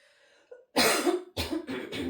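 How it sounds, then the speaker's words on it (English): A person clears their throat a few times in short, rough bursts, close by, with a brief pause between them. "Clear your throat if you need to do so."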